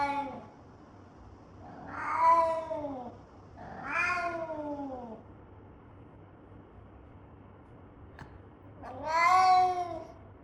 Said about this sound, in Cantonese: 同埋佢仲會不斷喵